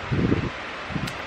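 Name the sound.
loud fan running in a room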